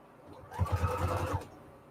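A sewing machine running a zigzag stitch across quilt fabric scraps gives a short, quiet burst of rapid mechanical thumping that lasts about a second, then falls back to a soft room hush.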